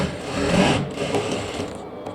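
Sewing machine running steadily as it stitches the folded hem of a cotton nighty, a continuous close whirring hum with slight shifts in speed throughout.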